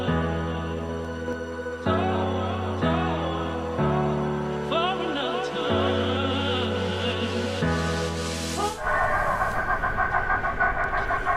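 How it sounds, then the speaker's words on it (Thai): Kiddie ride train arriving on an upper floor of a shopping mall, giving out a series of loud electronic melody tones and chimes in stepped phrases, then a busier jingle at the end. "รถไฟมาแล้วที่ชั้นสามนะครับ"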